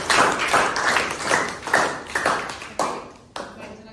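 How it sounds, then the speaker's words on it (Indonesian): Students in a classroom clap for a group: a burst of scattered clapping with several sharp rises that gradually thins out, close and fairly loud. "Tepuk tangan untuk kelompok 7."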